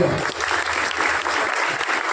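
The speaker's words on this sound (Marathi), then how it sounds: "सर्वप्रथम या चिमुकल्या स्पर्धकासाठी जोरदार टाळ्या" Loud, dense applause from a crowd cheering young children at a Tanha Pola decoration contest in Shrirampur, steady and sustained throughout the short stretch.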